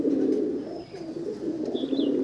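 Kalsira pigeons cooing steadily in a low, throaty rumble, a continuous close bubbling coo that persists throughout with no talk.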